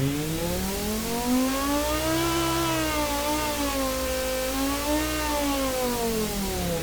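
A virtual inline five-cylinder engine in a car-building game revs up and down smoothly, a buzzy, harmonic-rich wail that rises and falls twice, close and continuous with no talking.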